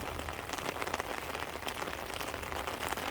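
Noon rain pours down over rice-planting fields, a dense, constant close-up patter of drops hitting surfaces with no other sounds.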